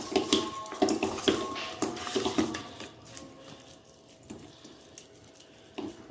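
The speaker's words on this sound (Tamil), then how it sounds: "நான் கொஞ்சமாக தண்ணி தெளித்து விட்டுக்கிறேன்" Water sprinkled over masala-coated fish for frying splashes and trickles in short bursts, like a tap running into a sink, loud at first and then quieter, with no one talking.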